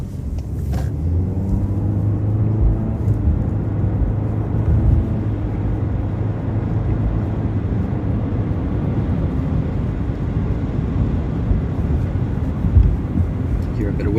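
Steady wind and road rumble inside a moving 2020 Volkswagen Jetta SEL, a continuous broadband hush with a low droning undertone at constant level.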